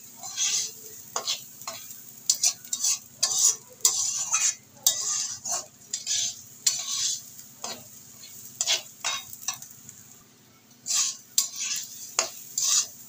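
Rice being stirred and fried in a pan with spices for basanti pulao, a soft continuous sizzle broken by repeated scraping strokes of a spoon, close and irregular, with no talking.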